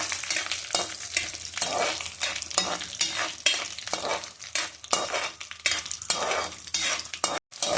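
Cumin seeds sizzle loudly in hot oil for a Bangalore-style bisi bele bath, with steady frying crackle and repeated scraping stirs of a spoon against the pan throughout.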